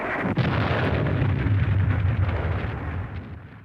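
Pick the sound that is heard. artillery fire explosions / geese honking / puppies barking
artillery fire explosions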